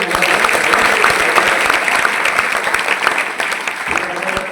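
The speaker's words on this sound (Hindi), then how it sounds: "क्यों कंजूस से ताली बजाए?" Audience applause after a Bharat Ki Santan dance performance, dense clapping held steady at a loud level for several seconds with some voices mixed in.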